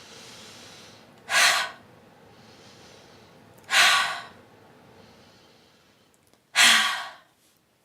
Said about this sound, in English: a fire breath is one of those breaths that actually generates heat